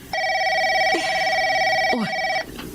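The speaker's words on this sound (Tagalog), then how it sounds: "Nagre-ring yung telepono natin" A telephone rings steadily for over two seconds with a bright electronic tone, loud and close, with a short voice sound near the end.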